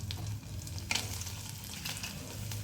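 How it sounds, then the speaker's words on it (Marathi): Something dry-roasting in leftover bhaji frying oil in a home kitchen, a soft steady sizzle with a faint clatter near the middle, no voices. "भजीचंच तेल होतं त्याच्यामध्येच आता कोरड्या मी भाजून घेते"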